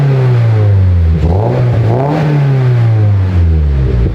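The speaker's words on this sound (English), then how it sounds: "wants to rev it up, so I'm gonna let her rev it up" Subaru BRZ, a 2022 model fitted with an aftermarket exhaust, revs hard through its pipes, the note rising and falling in a couple of loud, sustained sweeps close by.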